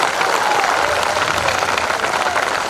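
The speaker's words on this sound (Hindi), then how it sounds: "तो एक बार तालियां बजा के मुझे बताइए" Sustained applause from a mushaira poetry audience in Banaras, dense clapping filling the whole stretch at a steady level with a faint crowd murmur underneath.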